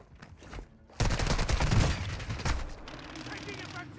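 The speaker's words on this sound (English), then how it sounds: "Taking effective fire!" Heavy automatic gunfire on Ashika Island in Warzone 2.0 Resurgence, starting with a few scattered shots and then breaking into a loud close burst that tapers off while in-game voices call out over it.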